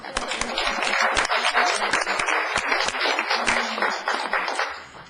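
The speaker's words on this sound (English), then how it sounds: "I think we need to clap right now." Audience applause at a city council meeting: dense, sustained clapping from a crowd, loud and steady for about five seconds before tapering off at the end.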